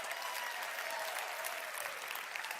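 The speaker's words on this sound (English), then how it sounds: "Give yourselves a round of applause." Audience applause at a network marketing event venue, a dense steady wash of clapping from a large crowd, loud and sustained throughout with no talk over it.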